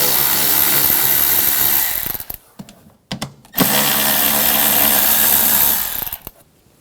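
Power tool running on the BMW 328i cabin filter cover, an 8mm socket driving out the front bolts: loud sustained whirring that cuts out briefly in the middle with scattered clicks, then resumes and stops again.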